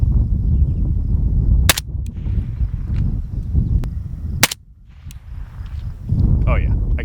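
Two sharp, loud gunshots crack at a shooting range, a few seconds apart, over steady wind and background rumble, with a voice talking around them.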